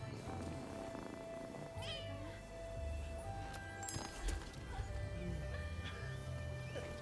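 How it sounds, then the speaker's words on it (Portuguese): A cat meows several times amid ambient game sound in the video game Rise of the Ronin, short rising calls spread across the scene over a low background hum and occasional footsteps. "Gatinho."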